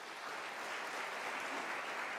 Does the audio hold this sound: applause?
yes